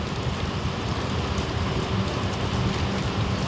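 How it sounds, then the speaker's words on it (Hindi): Heavy monsoon rain pours down around the Saraighat Express from Howrah to Guwahati near Kokrajhar Junction in the northeast, a dense, continuous roaring hiss that stays steady and close with no talking. "बारिश ही बारिश।"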